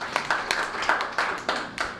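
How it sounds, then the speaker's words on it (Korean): Warm applause at an academic seminar on Korean food, a small audience giving scattered, uneven claps that come in distinct bursts, close and moderately loud. "뜨거운 박수 부탁드리겠습니다"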